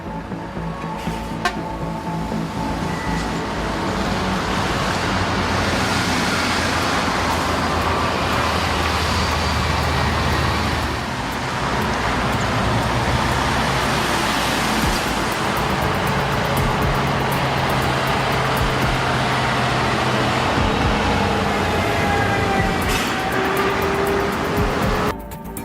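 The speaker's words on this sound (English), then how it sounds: "Watch as these powerful timber trucks expertly navigate the winding roads, transporting logs from the forest down to the valley below." Timber trucks hauling logs down winding mountain roads from the forest give a steady, continuous engine and road roar, with passing swells of sound.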